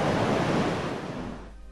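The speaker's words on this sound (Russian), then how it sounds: "Вон ручей какой. Мощный прет." A powerful stream swollen by rain rushing along the Vitim River near Ust-Mama, a loud broad roar close to the microphone with some wind buffeting, easing off toward the end.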